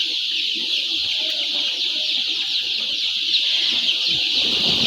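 About 14,000 young chickens in a hot poultry shed, a dense continuous chorus of high peeping with a constant hiss, loud and unbroken throughout.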